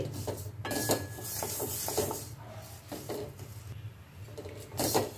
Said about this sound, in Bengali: আমি প্রথমে মুগের ডালটাকে একটু ভেজে নিচ্ছি ড্রাই রোস্ট করে নিচ্ছি